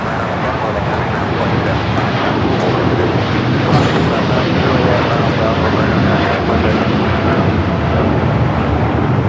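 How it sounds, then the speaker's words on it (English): A United Airlines Boeing 787-9 Dreamliner takes off from LAX, giving a loud, close, sustained jet engine roar that stays powerful and even from start to finish. "This is United Airlines 198 taking off to Shanghai on the 787-9 Dreamliner"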